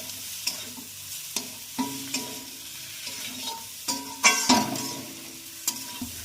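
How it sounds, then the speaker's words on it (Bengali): Pre-fried spiny gourd pieces are stirred by hand in a hot pan, giving a string of sharp scraping and clattering stirs over a steady background sizzle, close and fairly loud with no talking. "এবার আমরা কাঁকরোলগুলো দিয়ে দিচ্ছি, ভেজে রাখা কাঁকরোলগুলো। ভালো করে এইভাবে হাতের সাহায্যে নেড়ে নিতে হবে।"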